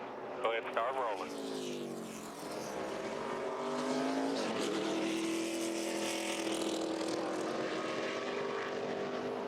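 NASCAR Nationwide Series race car during final practice for the 2008 Missouri-Illinois 250 at Gateway, engine rising in pitch as it gets up to speed on the access road, steady and droning, with commentators talking over it.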